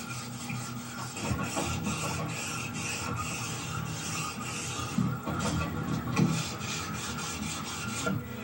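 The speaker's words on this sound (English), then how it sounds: "we're going to lightly sand it in long, even strokes to clean it up" Rhythmic rasping strokes of sandpaper on a lubricated Mazda RX7 13B rotary engine rotor housing, long even back-and-forth scrapes repeating steadily up close with no talk.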